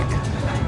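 A low, steady rumble of a train rolling along at MOTAT, the Museum of Transport and Technology in Auckland, New Zealand, continuous and fairly loud with no voices.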